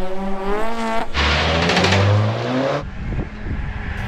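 A Mazda MX-5 sports car sprints at a speed trial on the Isle of Wight, its engine note climbing and swelling through the gears, loud and close. It ends in a rough, roaring pass.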